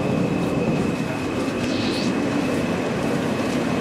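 A New York subway Queens-bound F express train riding between stops, a steady loud rumble of wheels and car noise throughout with a constant high whine, heard from inside the car.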